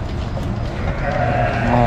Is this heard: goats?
yes